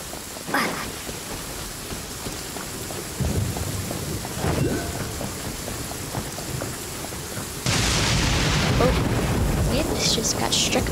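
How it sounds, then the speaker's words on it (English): Steady rain hisses through a Genshin Impact storm, broken by several thunder cracks and rumbles, with a loud sudden strike near the end that raises the downpour noise. "Just got struck by lightning."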